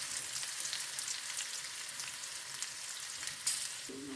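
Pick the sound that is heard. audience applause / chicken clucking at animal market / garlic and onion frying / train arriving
garlic and onion frying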